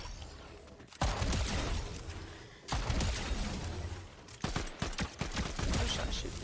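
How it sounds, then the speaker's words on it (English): Rapid gunfire from shooting enemies in a video game, dense bursts of automatic shots that cut off abruptly near one second and at almost three seconds, then resume in sharper, more separated volleys, loud and continuous with no talk. "I'm just trying to shoot these guys 'cause I'm bored."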